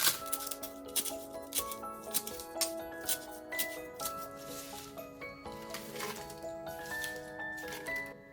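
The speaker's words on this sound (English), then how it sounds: "I'm going to cut the pandan leaf" Repeated crisp snipping and crunching of pandan leaves being cut, in a steady, uneven rhythm close by, with a faint tonal hum underneath.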